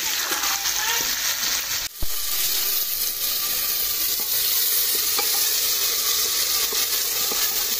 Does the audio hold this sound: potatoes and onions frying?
yes